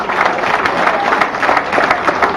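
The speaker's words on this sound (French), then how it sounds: "sous vos applaudissements, s'il vous plaît" Steady applause from a crowd at an associations parade in Le Carbet, with dense clapping throughout and a murmur of voices underneath.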